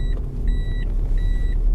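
Toyota Vios handbrake warning chime sounding while the car is driving: three spaced electronic beeps over a steady low road and engine rumble inside the cabin.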